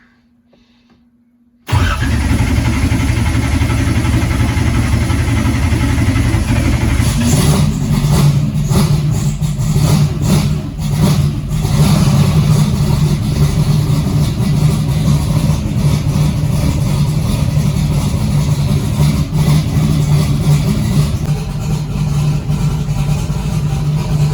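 A rear-mounted car engine fires up for the first time after the cooling system is filled and bled: a brief cranking, then a loud, rough idle that rises into revving and keeps running steadily, close up.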